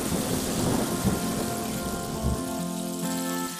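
Cartoon rain pours steadily with rumbling thunder in a stormy scene, a continuous loud wash of rainfall with low booms rolling underneath throughout.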